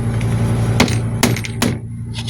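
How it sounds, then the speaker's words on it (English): A hammer taps rivets flat on a Rider safety buckle, giving three sharp, separate metallic strikes close up over a steady background hum. "we're just going to take the hammer"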